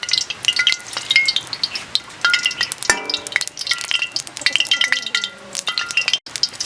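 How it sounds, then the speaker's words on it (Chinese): Hot oil crackles in a wok while dry-pot spare ribs are being prepared, giving an uneven, close sizzle broken by metallic clinks and scraping from stirring. "我锅里加油，这刚刚烧的热油啊"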